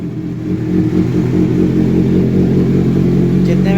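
A Kawasaki Z motorcycle engine idles steadily with a deep, even rumble and faint mechanical clatter. The sound is loud and close and stays constant throughout, with no revving.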